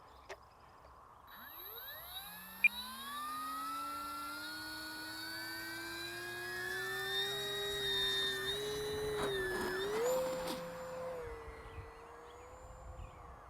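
An FMS Cessna 182 Skylane 1500mm RC plane takes off from thick grass with half flaps. Its electric motor gives a steady, rising whine with shifting tones, moderately loud and continuous.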